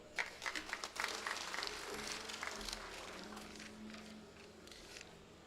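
An audience in a hall at a book festival gives a burst of applause that starts with a few scattered claps, swells into steady clapping and slowly fades, heard at a moderate distance.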